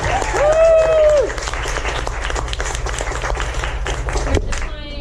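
Audience applause rises in a steady wash of many hands clapping, with a brief whistle or cheer early on and a voice breaking in near the end.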